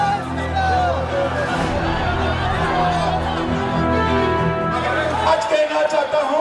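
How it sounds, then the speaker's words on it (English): A huge crowd chants slogans around a mega political roadshow moving from Humana Mandir to Bolpur Circle in Birbhum, Bengal, a loud, dense roar of massed voices and shouting that holds steady throughout. "holding a mega roadshow from Humana Mandir to Bolpur Circle, surrounded by a huge sloganeering crowd"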